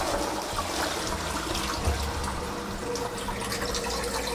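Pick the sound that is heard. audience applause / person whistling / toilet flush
toilet flush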